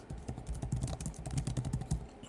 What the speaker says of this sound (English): sorry if the typing is loud